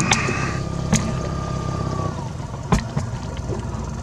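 Kicker outboard motor running on a fishing boat, a steady low engine drone with a faint whine, broken by a few sharp knocks and clunks.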